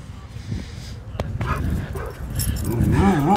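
A puppy whimpers and yips in short, high, close cries during an outdoor walk, mixed in with a person's soft talking.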